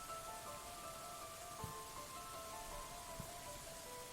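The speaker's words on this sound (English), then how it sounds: "it's still playing the rain sound effect" Rain sound effect in the video game Dwarf Fortress, a steady, soft patter of rain on a surface continuing throughout, with faint tonal game sounds running underneath.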